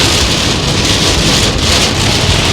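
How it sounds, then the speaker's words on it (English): Heavy rain pours in a steady, dense roar of drumming drops, loud and close, with no voices. "Guys, this is some heavy rain."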